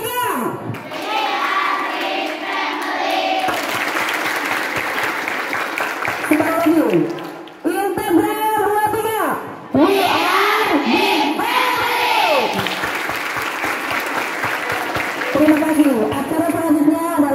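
Children at an Islamic boarding school event clap loudly on cue before the closing, a busy mix of clapping with shouting young voices and music-like tones, lively and near throughout.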